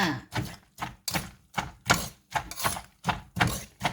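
A pestle pounds mushroom papaya salad with instant noodles, corn and pork sausage in a mortar. About ten rhythmic, close thumps land roughly every half second, each a hollow knock with a bit of wet mashing, and no one speaks.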